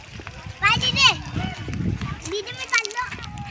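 Children shouting and chattering excitedly while they play in water, high voices rising and falling close by, with some scuffling movement underneath.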